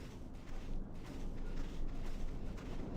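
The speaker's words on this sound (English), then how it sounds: "It actually sounds like this storm is real." Storm ambience from the point-and-click adventure game The Dig, a steady low rumbling wash of wind and roar with gusting swells, heard on its own without talk.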